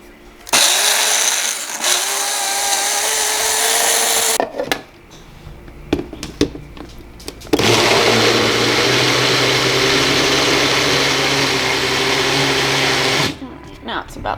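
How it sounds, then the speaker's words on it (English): Kitchen blender mixing a thick drink with its lid on, whirring loudly in two long bursts separated by a short pause, with a brief stop near the end. "use a lid on a blender, right?"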